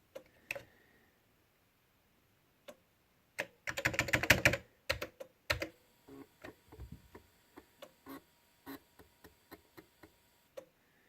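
Computer keyboard keys pressed to play an Amiga game: scattered sharp clicks, a dense burst of rapid typing in the middle, then a run of single taps spaced apart, close and fairly quiet with no talk.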